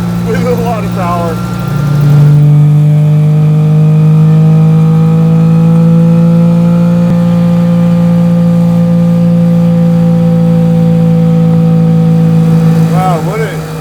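A turbocharged three-rotor Mazda RX-3 making around 600 wheel horsepower, heard from inside the cabin: a loud, steady engine drone swells early and then holds, with people talking at the start and end.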